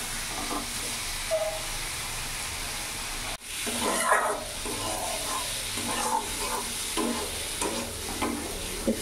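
Fried potato pieces are stirred through a sizzling spice masala in a pan, for a vegetarian potato-cauliflower curry: steady close frying hiss with repeated scraping stir strokes, louder after a brief cut midway, no talk.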